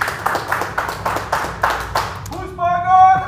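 Sharp knocks on a surface in a late-night cooking show studio, about seven evenly spaced raps, close and loud, followed by a brief burst of tonal sound as a voice begins.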